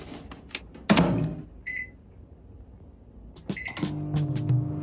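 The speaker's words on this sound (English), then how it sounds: "All right, it's time for entrees, but I've got to microwave mine." A microwave oven in Japan heats convenience store food, giving short electronic beeps amid door clunks and handling noises, with a low steady hum between them.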